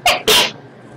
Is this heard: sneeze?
yes